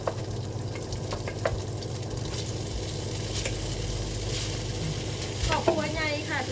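Rice stir-fried in a pan, with a continuous sizzle broken by repeated scraping and clanking strokes of the spatula, close and fairly loud, with no speech.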